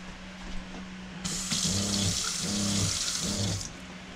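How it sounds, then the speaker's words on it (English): Water gushes into the sink of a cargo trailer converted to a toy hauler, fed by an onboard pump that hums in pulsing bursts while the stream hisses steadily and then cuts off, close by with no talking. "Reach over here and I'm going to turn the water pump on."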